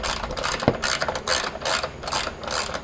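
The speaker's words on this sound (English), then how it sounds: "it's much easier to use a deep well socket" A ratchet with a deep well socket loosening underbelly pan bolts on a Subaru WRX STI, giving rapid rhythmic clicking strokes in several repeated bursts, close and loud.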